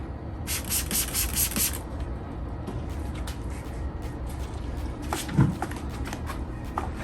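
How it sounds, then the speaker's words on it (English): Several quick hissing sprays of diluted waterless car wash cleaner from a spray bottle onto a towel at the start, followed by soft rubbing and handling sounds. "I'm gonna spray this."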